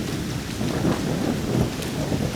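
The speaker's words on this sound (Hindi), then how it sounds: "उस रात भारी बारिश हो रही थी।" Heavy rain pours steadily at night, a dense continuous wash of drops with a low rumble of thunder beneath it, heard with no voices.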